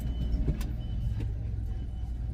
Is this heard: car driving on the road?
yes